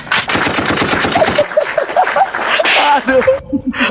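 Rapid machine gun fire in a video game, loud and close, as a dense stream of quick bursts broken by short gaps, with a voice briefly heard under it.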